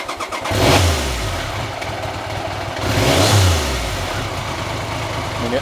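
A Triumph Sprint 900 motorcycle engine idles with a throaty rumble and rises in two loud revs about two and a half seconds apart, close by, while its intake is partly restricted.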